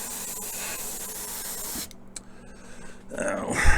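A spray paint can misting a light coat onto an MPC Country Charger model car kit, a continuous close hiss with brief pauses between passes and no voices.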